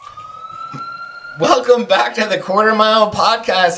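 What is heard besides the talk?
ambulance sirens in the background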